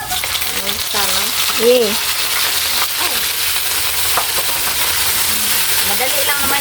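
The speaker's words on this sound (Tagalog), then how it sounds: "At saka igisa na rin natin yung bagoong" Bagoong shrimp paste sautéing in hot oil in a pan for pakbet, a steady sizzle and spatter running throughout with stirring scrapes, while a voice talks over it now and then.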